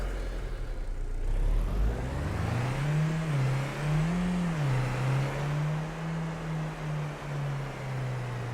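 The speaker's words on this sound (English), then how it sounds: "Here's one of our new vehicles, the Skoda car. A very nice car. Octavia." A Skoda Octavia car in Farming Simulator 25 starts up and drives, its engine rising into a steady mid-pitched drone that wavers as it revs up and down, heard alone and close.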